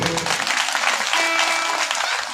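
An audience at a Shrimad Bhagwat Katha religious gathering claps together, a dense, even wash of applause that holds steady for a couple of seconds with little else beneath it.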